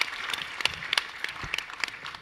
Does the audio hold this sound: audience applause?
yes